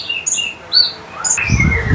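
A small caged songbird sings loud, high, clear whistled phrases in short repeated bursts, close by, with a low rustle toward the end.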